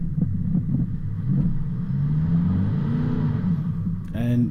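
A Toyota Troopy 4WD climbs a steep off-road track on Flat Rock Track near Tallarook, heard from inside the cabin as a steady low engine rumble with small bumps and shifts, and a voice briefly at the end.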